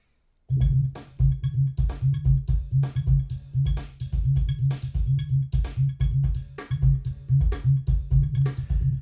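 A bass guitar with a narrow midrange EQ boost plays a steady, repeating riff of plucked notes with a focused, honky midrange tone, fairly quiet and alone.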